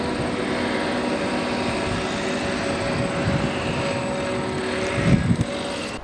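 A Skywalker FPV RC plane drones steadily overhead in flight, its propeller motor humming evenly with a slight swell near the end.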